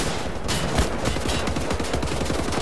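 Rapid gunfire in Wolfenstein: The New Order, a dense, continuous burst of repeated shots with sharp transients over a steady loud background throughout.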